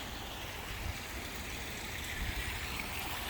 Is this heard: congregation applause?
no